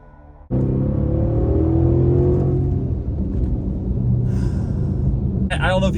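A 2016 Mercedes-Benz S550 Coupe engine starts suddenly and settles into a loud, steady, deep idle rumble close by, with a short higher whir near the end.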